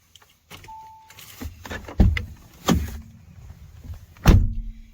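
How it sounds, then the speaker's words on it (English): Interior door locks on a VW T6.1 California Ocean camper van engage in a series of sharp mechanical clunks, with a short motor whir first and then three loud thuds spaced about a second apart in a quiet cabin. "press the lock button at the top. This will lock all your doors from inside"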